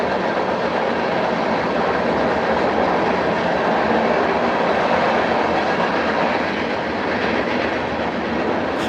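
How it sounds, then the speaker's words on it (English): A rattling train carriage in motion, heard from inside as a steady, loud broadband rumble and clatter with faint rhythmic clicking, continuous for several seconds with no talking. "This train is a rattle trap."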